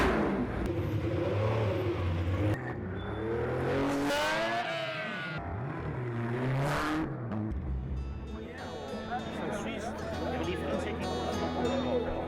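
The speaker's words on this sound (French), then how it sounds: "nous avons fait rouler une quinzaine de voitures ici sur ce circuit, 2 par 2" Vintage race car with a Maserati engine driving on a circuit, its engine rising and falling in pitch as it revs and passes, heard amid ongoing talk and background activity.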